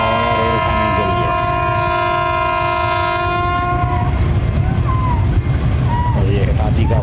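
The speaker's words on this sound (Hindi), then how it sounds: "ये हिटाची का खूबसूरत विसल जो मुझे बेहद पसंद है" A Hitachi locomotive hauling the Pak Business Express sounds a long, loud sustained whistle as the train passes, then wheels clatter and rumble close by with a voice speaking over the noise.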